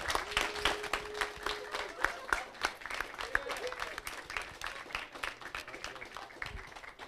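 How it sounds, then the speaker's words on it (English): Scattered clapping from a small group at an esports event, uneven and irregular, with people talking over it. "Let's give him a big round of applause and a huge thank you."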